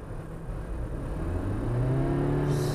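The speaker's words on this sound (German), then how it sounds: "Für das Geräusch ist jetzt die Beschleunigung nicht wirklich beeindruckend." A Toyota Yaris Hybrid accelerates with a steady, fairly loud engine drone and whir, the pitch climbing gradually as the car speeds up, with no voices.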